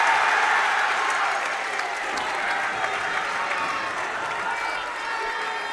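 Home fans at a Memorial versus Trinity boys' basketball game cheer and clap in a sustained, fairly loud roar of crowd noise lasting several seconds.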